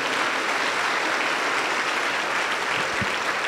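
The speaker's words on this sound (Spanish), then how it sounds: "Aplauso para el Señor Jesús." A Pentecostal church congregation claps together in steady, dense applause, loud and unbroken for a few seconds.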